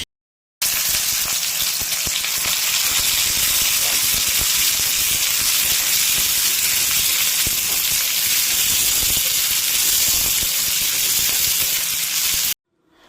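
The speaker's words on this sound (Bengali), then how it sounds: "এখানে পেঁয়াজটা তো ভাজা চলছে একদিকে" Chopped onion fries in a pan for chicken liver masala, a loud, steady, close sizzle and hiss that runs unbroken for about twelve seconds.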